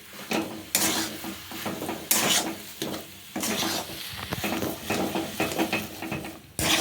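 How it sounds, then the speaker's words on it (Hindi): Potatoes and peas roasting in a kadhai over a medium gas flame are stirred with repeated scraping strokes in bursts, a low sizzle running underneath, loud and close. "गैस का फ्लेम मीडियम रख के इसे बीच बीच में चलाते हुए भून लीजिए"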